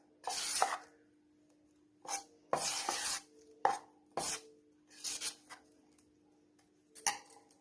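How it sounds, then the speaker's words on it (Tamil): Appam batter gets a pinch of salt and is stirred by hand in short, separate bursts of wet scraping and slapping strokes, close up, with quiet gaps between them and no talk. "இப்ப ஒரு பிஞ்ச் உப்பு போட்டுக்கலாம். இது நல்லா கலந்து விட்டுக்கலாம்."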